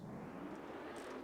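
A steady, low jet roar from an F-14 Tomcat fighter in Wargame Red Dragon, faint and constant through a brief stretch with no break.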